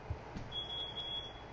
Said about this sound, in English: that's a smoke alarm. Either smoke or carbon monoxide.